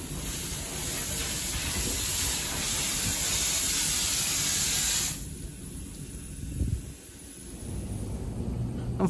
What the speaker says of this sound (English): the 9F was going through a steam test under the coal tower